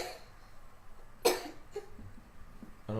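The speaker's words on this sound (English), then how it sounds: "What's up with that little cough?" A single small cough, sharp and close, stands out against a quiet room, followed by a faint second catch and some low background noise.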